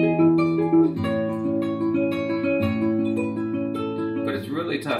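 Classical guitar playing a passage from the Spanish Romanza, plucked notes ringing in a steady arpeggiated pattern with sustained bass tones, close and clear, ending with a brief scrape of fingers on strings.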